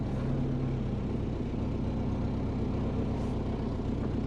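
A Subaru with a freshly swapped six-speed manual gearbox drives along, its engine and road rumble forming a loud, steady, continuous drone with no talking.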